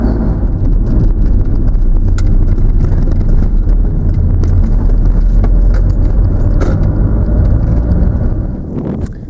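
Loud continuous rumble of a car cruising along a road in western Scotland, heard from inside with low road and wind roar, a few faint rattles and clicks, easing slightly at the end.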